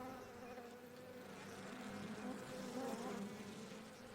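Mosquitoes whine in a steady, continuous drone inside a small grove of logwood trees on a humid riverbank, a thin hum that holds evenly the whole time with no voices.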